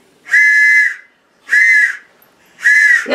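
A cheap dollar store toy train whistle blown three times, each a steady, shrill, breathy tone lasting about half a second, with short silent gaps between blasts, close and loud.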